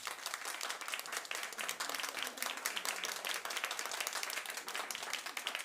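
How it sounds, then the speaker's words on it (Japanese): Crowd applause at a Japanese pro wrestling show in Oji, a sustained, dense patter of many hands clapping at an even level throughout, fairly distant and without voices. "ティーホーク選手のチョップがすごかったと思われるお客様は拍手をお願いいたします。"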